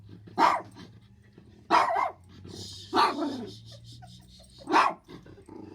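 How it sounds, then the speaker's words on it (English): A Yorkie Maltese mix dog gives four sharp, separate barks spaced a second or more apart, close and fairly loud over a low steady hum indoors. "He is a Yorkie Maltese mix."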